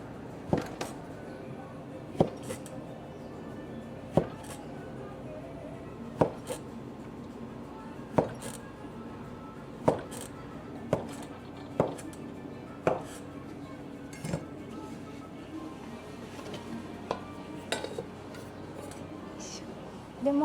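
Thick buckwheat soba noodles chopped by knife at a soba shop: about fifteen sharp, separate knife strikes on a board at an uneven, unhurried pace, close and fairly quiet over a low room hum.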